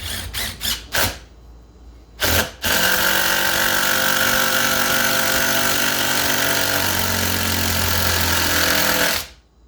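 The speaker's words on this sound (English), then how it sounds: "Now I'm going to make a new hole, and I like to just hit it, get it started." An impact drill gives a few short bursts and then runs in a long, loud, continuous hammering rattle while driving a screw. It cuts off abruptly at the end.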